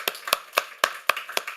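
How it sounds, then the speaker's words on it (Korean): A few pairs of hands clap in a slow, even rhythm, about seven distinct sharp claps in under two seconds inside a church congregation, fairly quiet with silence between each clap. "영광의 박수 올려드리겠습니다"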